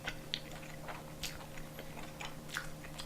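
Close-up chewing of a mouthful of two flat dumplings (napjak mandu), soft repeated wet bites and mastication at a steady rhythm over a faint background hum, no talking.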